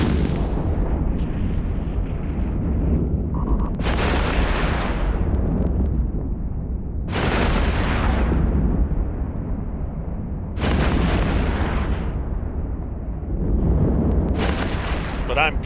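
An enemy ship's rail guns fire in EVE Online, each shot a heavy booming blast that decays into rumble, repeating roughly every three to four seconds over a constant low hum.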